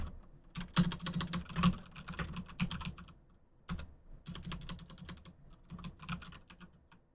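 Typing on a computer keyboard, rapid close clicks of keystrokes in two bursts separated by a brief pause, with a steady, busy rhythm and no talk.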